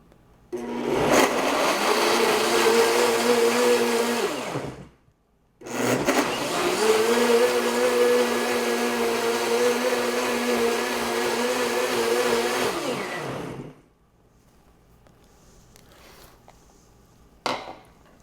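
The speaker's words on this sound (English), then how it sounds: "now we're ready for the blender. Safety first, this thing's loud." A loud blender whirs close by in two long bursts with a brief pause between, then stops, leaving quiet with a faint clink near the end.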